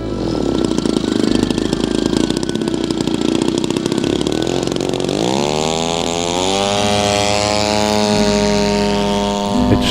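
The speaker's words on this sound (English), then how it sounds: "the black Night Fighter Hurricane taxis out." A black Hawker Hurricane night fighter's piston engine rumbles loudly and roughly as it taxis at an airshow, then steadies into an even, higher droning tone, continuous and close.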